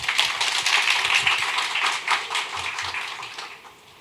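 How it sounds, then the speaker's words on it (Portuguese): An audience at a university scholarship talk claps after a speaker finishes, a dense burst of applause that is loudest at the start and gradually thins out. "muito obrigada, uma salva de palmas."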